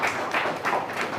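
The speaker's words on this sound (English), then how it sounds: "Big applause for the panelists." Audience applause for panelists at an ASEAN-Norway energy and climate forum, a short burst of many hands clapping in a room, moderately loud and continuous for about a second.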